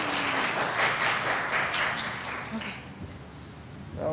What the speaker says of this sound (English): please a round of applause for Beth Ann